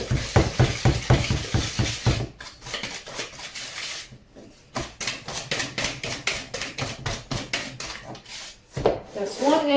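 Wooden spoon stirring apple cake batter in a bowl, with a rapid run of rhythmic scraping knocks close by, broken by pauses, and a brief voice near the end.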